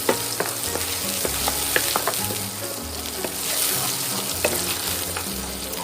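Fried garlic and pounded chili are stir-fried in a little oil, giving a steady close sizzle broken by scraping and tapping of a utensil against the pan, with no talking.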